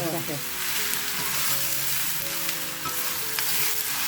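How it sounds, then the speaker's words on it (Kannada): Eggplant masala stir-fries over a high flame with a loud, continuous sizzle and crackle, while a spatula scrapes and turns the pan in an uneven rhythm, close and unvoiced. "ಇದನ್ನ ಹೈ ಫ್ಲೇಮಲ್ಲಿ ಒಂದು ಎರಡು ನಿಮಿಷ ಈ ಥರನೂ ಕೈ ಆಡಿಸ್ತಾ ಇರಬೇಕು"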